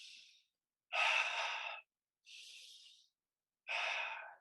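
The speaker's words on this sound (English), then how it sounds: "Inhale and exhale. Slightly deeper than you normally would breathe." Slow, deep breathing during a breathwork session: two long inhales alternating with two longer exhales, each a close, airy rush separated by brief silence, with the exhales sounding like soft sighs.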